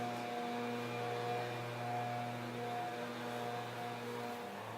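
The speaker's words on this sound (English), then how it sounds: "I guess you can hear that noise where they're working on the roads" Steady machinery drone from road work being done nearby, a continuous low hum with faint tonal whine that holds level throughout, fairly quiet and with no one talking.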